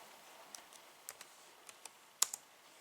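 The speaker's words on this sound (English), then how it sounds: "Interesting typing technique there is" Light, sparse tapping on a computer keyboard, done one-handed: a few soft, irregular key clicks spaced apart, with one slightly louder stroke near the end, close and quiet against a faint background hiss.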